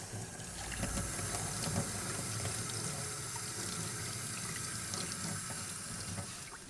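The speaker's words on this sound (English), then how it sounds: "I rinsed this off with some hot water" Hot water runs steadily from a sink tap over a metal part being rinsed of milkstone after rust-stripping soak, a continuous close hiss and splatter of the stream with no talking.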